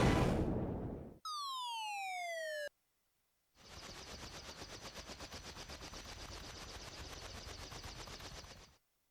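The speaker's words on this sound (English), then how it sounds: "The bridge exploding." A bridge explodes in Final Fantasy IV, heard as game audio: a loud burst that fades, then a falling sweep, then a long sustained rumbling roar with a rapid rattling pulse before it cuts off.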